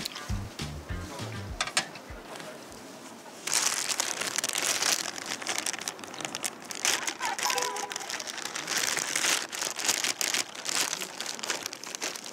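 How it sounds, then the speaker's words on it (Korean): A book is slipped into a plastic zipper bag, giving a few seconds of steady crinkling and rustling of thin plastic close by, with a brief low voice at the start. "그 책을 원래 여기 있는 비닐팩에 싸줘요?"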